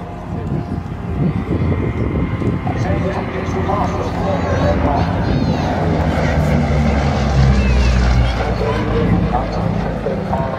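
A Bristol Blenheim flies at the 2024 Southport Air Show, its engines making a steady, broad, rumbling drone that lasts throughout, with voices talking over it.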